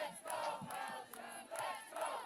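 A Belgian crowd at a women's U17 ultimate frisbee match between Belgium and Germany chants and cheers in rhythmic, repeated bursts, heard at moderate distance.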